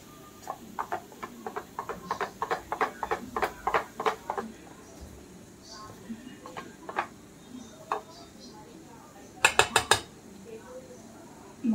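A spoon clinks against a bowl while mixing batter of soaked sabudana for a fasting-day recipe, with a quick run of rhythmic taps, scattered scrapes and a later burst of sharper clinks, close and fairly quiet.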